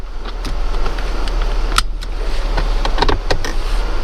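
A motorized seat belt presenter inside a Mercedes 320CE A124 convertible hums steadily close by for several seconds, with faint clicks and light mechanical rattles over it.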